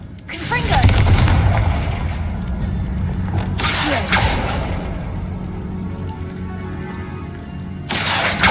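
Confringo blasting spells cast in the game Hogwarts Legacy: three separate booming bursts spaced several seconds apart, each with a sharp crack and rumbling tail over a steady game background, with some talk present.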